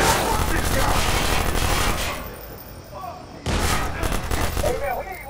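Gunfire from the video game Watch Dogs rattles in loud sustained bursts, pauses briefly, then resumes with another heavy volley.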